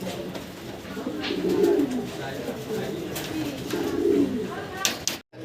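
Fancy pigeons at a breeding farm coo nearby, making a few low, rolling coos in slow succession over a faint background hum.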